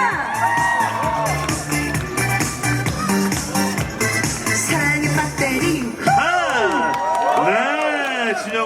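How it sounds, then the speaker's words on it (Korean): A concert audience at a charity campaign performance cheers and applauds loudly and steadily over continuing music, with a singing voice swooping in near the end. "박수 주세요 여러분"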